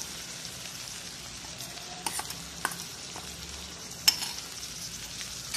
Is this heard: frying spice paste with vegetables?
yes